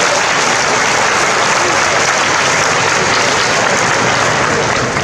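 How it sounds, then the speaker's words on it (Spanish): An audience at a teaching excellence awards ceremony claps steadily, a dense, even wash of applause from a sizable crowd lasting throughout. "Tienen la oportunidad de aplaudir"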